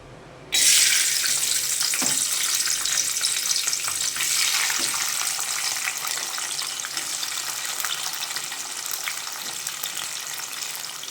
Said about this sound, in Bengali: একদিকে একটু কাজু কিশমিশ ভেজে ভেজে নিই